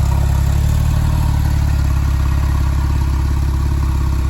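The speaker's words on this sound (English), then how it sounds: "The engine purrs like a kitten. There's no abnormal noises. Sounds perfectly smooth." A 2010 Porsche 997.2 Turbo engine idles steadily at close range, a low, even rumble with a faint mechanical clatter and no change in pitch.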